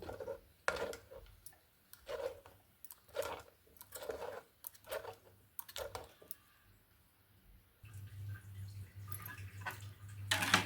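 Soft wet squishes and drips recur in a slow rhythm as soaked split moong dal is squeezed and strained into milk, with a low hum rising near the end.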